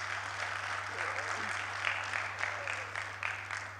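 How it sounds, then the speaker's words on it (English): Audience applause at an AICA annual general meeting in Mahabalipuram, moderate steady clapping from a crowd in a hall, fairly distant under a constant low electrical hum, with faint voices mixed in. "please give a big round of applause for him"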